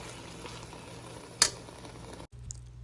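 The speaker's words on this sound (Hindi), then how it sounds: "अब मैं चूल्हा आहिस्ता कर आहिस्ता आहिस्ता भून कर पकाऊंगी" Makhandi halwa roasting slowly in a pan over a low flame gives a soft, steady bubbling simmer with one brief sharp scrape or clink midway, then a short drop to near silence.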